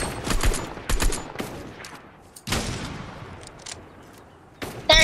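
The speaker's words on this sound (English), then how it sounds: "I'm gonna use my sniper." Sniper rifle shots in a video game ring out as a handful of sharp, loud cracks with decaying tails, spaced irregularly across the moment with brief quieter gaps between them.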